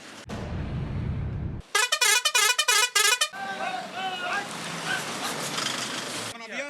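A vehicle fitted with a loud musical horn honks in a rapid series of pulsing tonal blasts, followed by warbling melodic horn tones, with people talking nearby during a traffic police check.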